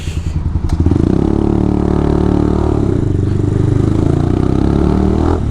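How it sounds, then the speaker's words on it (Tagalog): A motorcycle engine idles close by with a steady low rumble, briefly revving at the start before settling into a continuous putter. "Nandun na si Kuya Arden Nagpapaayos na ng kanyang motor"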